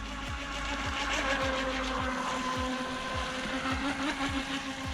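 A Top Race TR-900 RC boat with a 370 brushed motor runs at full throttle, a steady high electric whine over rapid rhythmic thumps as the hull slaps across the water, continuous and close.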